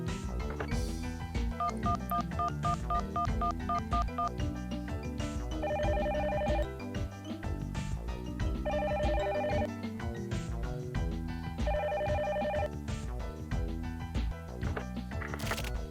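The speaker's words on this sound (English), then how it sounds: "Calling Etika's cell phone." A cell phone call in the video game The Silver Case rings out in repeated electronic tone bursts over busy looping game music, steady and moderately loud, with no talking.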